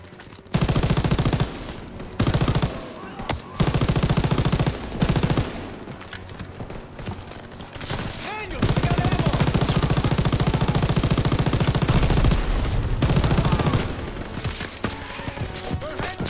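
Loud, sustained machine-gun bursts in a Call of Duty: WWII D-Day battle, long rapid strings of fire broken by short pauses, with shouted voices mixed into the chaos.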